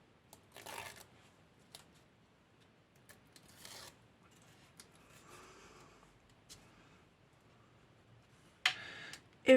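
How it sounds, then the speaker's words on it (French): Protective backing strips peel off 3D foam pads on a scrapbooking card, heard as several short, close rasping tears separated by quiet pauses, with a louder ripping burst near the end. "on va pouvoir tirer les protections des mousses 3D"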